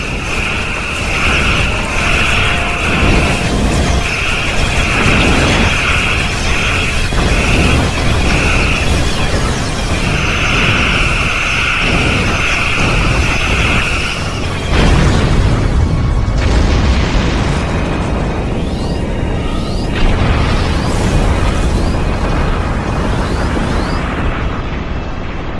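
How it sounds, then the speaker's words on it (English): Starship weapons fire and explosions in the space combat game Star Trek Online, loud and continuous, with repeated blasts and booming bursts filling the whole stretch. "All weapons fire at will."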